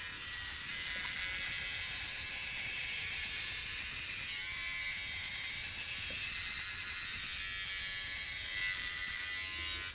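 Electric hair clipper buzzing steadily as it struggles through wet hair, a continuous close, moderately quiet whirring drone with a bright edge, running alone for the whole stretch.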